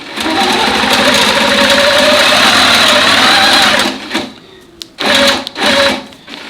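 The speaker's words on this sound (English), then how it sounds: "I'm just going to stitch around this" Sewing machine stitching a quilted flag panel runs loud and steady for about four seconds, then stops and restarts in two short bursts; no talking.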